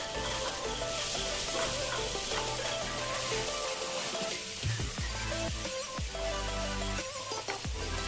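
Chopped tomatoes sizzle in hot oil with spices in a pan for a Bengali rui fish curry, a loud constant hiss with occasional stirring knocks and scrapes, up close and without talk.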